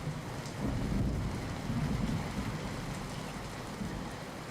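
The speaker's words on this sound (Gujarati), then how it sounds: "જાબાળ અને આસપાસના ગ્રામ્ય વિસ્તારોમાં સવારથી જ ધોધમાર વરસાદ ખાબકી રહ્યો છે" Heavy monsoon downpour over Jabal village near Amreli, a dense, steady roar of rain pounding surfaces with low thunder rumbling underneath, loud and continuous with no voices.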